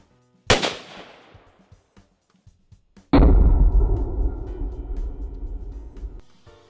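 A .50 caliber Desert Eagle fires into 48 layers of leather jacket outdoors, giving one sharp crack, then a few small ticks, then a second louder, sustained roaring blast that rumbles for about three seconds.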